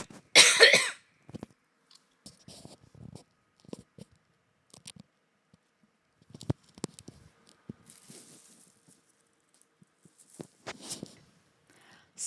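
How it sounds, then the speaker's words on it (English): A loud, harsh throat clearing bursts out at the start, close to the microphone, followed by scattered quiet clicks and small rustling noises. "What if I clear my throat?"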